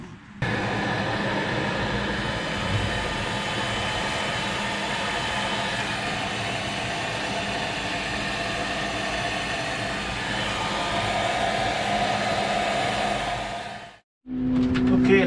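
Heat gun blowing hot air steadily to shrink heat-shrink tubing over bilge pump wiring on an O'Day 25 sailboat, a continuous loud roaring whoosh lasting about fourteen seconds before it cuts off abruptly.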